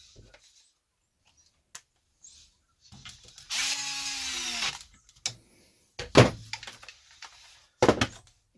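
A power driver whirs steadily for a second or two while center screws go into a Traxxas Wide Maxx RC car chassis, followed by several short clicks and knocks of handling parts nearby.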